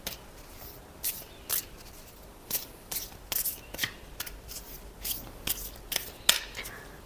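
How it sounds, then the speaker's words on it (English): Tarot cards are shuffled by hand, producing a series of crisp riffling bursts at irregular intervals, close and fairly quiet with no voices. "I love shuffling the cards."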